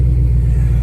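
A cammed Ford Mustang V8 with long tube headers and pipes rumbles loudly up close, a deep, choppy low burble pulsing unevenly through a brief moment.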